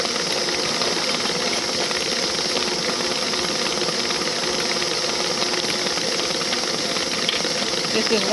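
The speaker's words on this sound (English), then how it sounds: "Oh, it's steaming up." Hot divinity candy mixture lets off a steady, broad steam hiss that holds at an even level throughout, with no talking.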